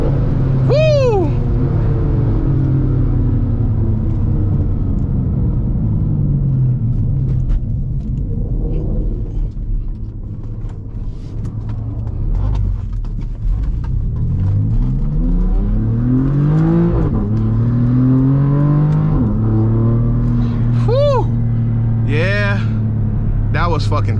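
A BMW F80 M3 roars from inside the car during a race, its engine rumbling and revving in rising sweeps between gear changes. The loud, close engine noise runs the whole time, with excited voices over it.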